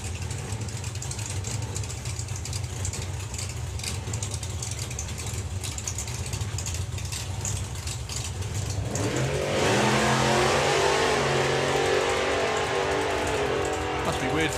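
Drag racing cars rumble at the start line of the FIA Main Event, then launch down the strip about two-thirds of the way in with a sudden loud, rising roar, under commentary.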